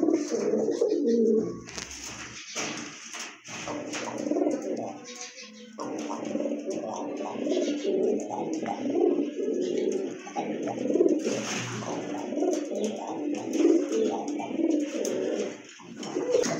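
A pair of deep red Rajgolla pigeons at a pigeon sale coo in a low, throaty, repeated rhythm, close and continuous throughout, with faint background voices.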